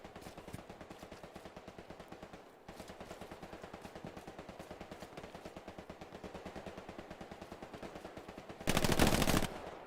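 A machine gun in Hell Let Loose keeps up long, steady rapid fire, pauses briefly, then resumes, with a louder blast near the end; mid-distance and unbroken by speech.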